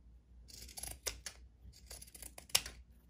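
Pinking shears snip through fabric on a rag doll horse in several short, close cuts, crisp and quiet with one sharp final snip, and no talking.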